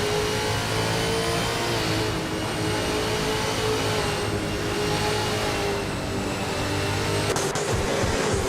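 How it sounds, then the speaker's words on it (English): V8 supercars racing on a track, engine roar held steady throughout with tonal whine, a tight pack passing continuously, loud and close with no talking. "The V8 supercars are holding their ground with a tight pack, so the track seems well suited for their power and handling."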